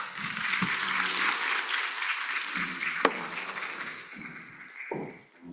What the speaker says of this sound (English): Please give them a big round of applause once again.